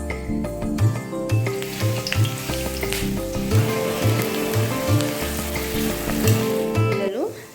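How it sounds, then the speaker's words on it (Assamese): Bay leaf, dried chilli and onions fry in hot oil, giving a loud, continuous close sizzle with crackling and the clatter of stirring throughout, and no talk. "তাৰপিছত তেজপাত জলকীয়া তাৰপিছত পিঁয়াজখিনি দি অলপ ৰঙচুৱা হ'ব দিছোঁ"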